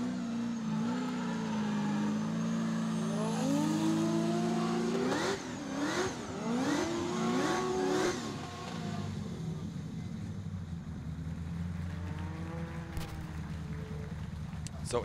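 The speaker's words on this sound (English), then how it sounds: "Full throttle, right to the edge of the circuit, and can he hold it as he slows the car down rapidly" A drift car at a pro qualifying round runs at full throttle near the edge of the circuit, then slows hard. The engine roars loud and close, revs rising and falling, with commentators talking over it.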